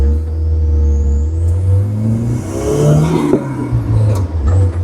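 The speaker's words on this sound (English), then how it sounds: "Turbo sounds cool." A turbocharged Geo Tracker on the road, with a loud, close engine drone and a rising whistle from the turbo as it spools up under acceleration, with no talking.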